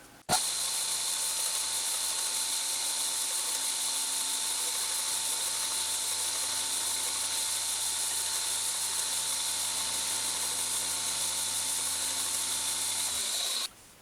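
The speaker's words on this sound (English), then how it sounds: "I sharpen the knives on a 600 grit on a belt grinder." A belt grinder with a 600 grit belt runs steadily while a forged kitchen knife is sharpened on it, giving a continuous high hissing grind that starts and stops abruptly.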